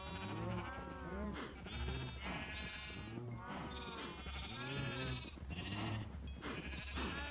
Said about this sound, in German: und da nehmen wir jetzt auch die ganzen Schafe.